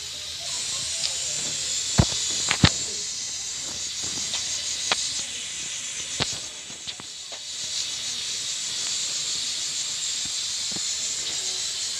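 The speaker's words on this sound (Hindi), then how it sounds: "तो कुकर में आ रही इस वक्त सीटी, जो मुझे बहुत डिस्टर्ब कर रही है वॉइस ओवर में" A pressure cooker cooking rice lets out a continuous loud hissing whistle of steam in a home kitchen, with scattered sharp clicks and knocks over it.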